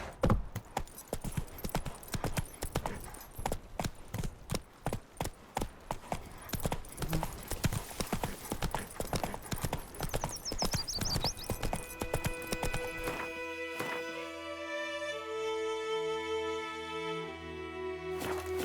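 Roach, a horse in The Witcher 3, clip-clops in a quick steady rhythm of hoofbeats that gradually slow, fade and give way to sustained musical tones near the end.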